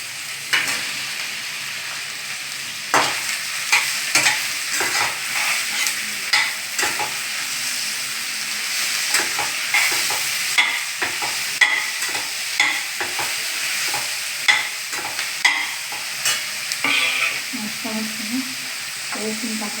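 Mushroom pieces for a mushroom curry sizzle and fry in a pan while being stirred, a steady close hiss broken by repeated scraping clicks of the spatula, continuing throughout.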